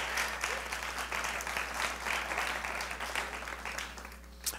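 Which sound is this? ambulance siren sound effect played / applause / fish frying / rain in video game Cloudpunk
applause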